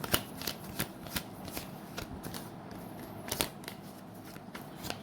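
Tarot cards being shuffled by hand, a steady run of crisp papery riffles and snaps up close, with brief louder flicks as cards are drawn, no talking.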